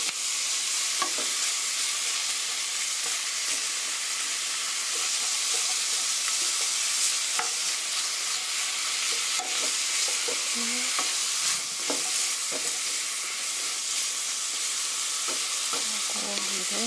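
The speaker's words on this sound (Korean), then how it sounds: "소고기 넣어서 같이 볶아주세요. 소고기가 핏기가 없어질 때까지 볶아주세요." Beef stir-frying in a hot pan for a zucchini beef stew: a steady, continuous sizzle with occasional scrapes and knocks of a utensil stirring, close and alone with no talking.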